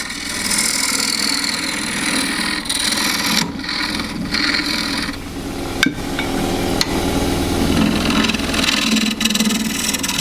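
A wood lathe turns a gidgee bowl under a 3/8 spindle gouge, giving a continuous loud scraping, whirring cut with brief tapping knocks and small shifts in tone as the tool moves, and no talk.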